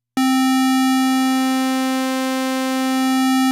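A Reaktor 6 vector synthesizer holds one steady, loud, buzzing pitched tone. Its timbre shifts between pulse and sawtooth waveforms as the vector position moves, with no talking.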